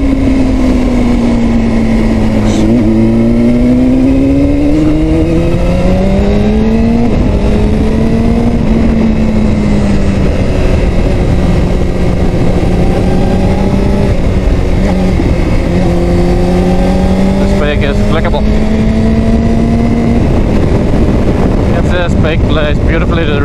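A 2005 Honda CBR600RR sport bike hums steadily at speed on twisty roads, its engine tone rising and falling with gear changes, with heavy wind rush over the microphone throughout.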